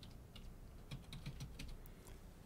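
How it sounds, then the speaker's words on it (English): Keys tapped on a computer keyboard while entering a new web administrator password during a Raspberry Pi 4 OpenMediaVault setup, a faint, steady run of soft clicks over low background hum. "we're going to type in a new password"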